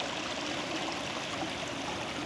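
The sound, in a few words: stream water flowing downstream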